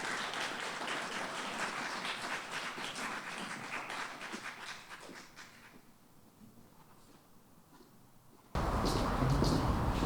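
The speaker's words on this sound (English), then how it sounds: "can we give a round of applause to Professor Chris van Heerden" An inaugural lecture audience applauds Professor Chris van Heerden, steady dense clapping that gradually thins and fades, then an abrupt louder burst of broadband noise at the end.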